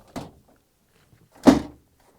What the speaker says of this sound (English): Now I'm going to bring and install the freezer drawer.